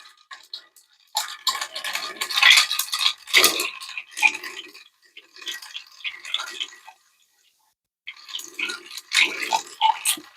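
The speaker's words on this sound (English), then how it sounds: "So we'll go ahead and give this a few stirs." Ice clinking and rattling as a Martinez cocktail is stirred in a mixing glass, close and moderately loud in uneven bursts with a brief pause before the final swirl.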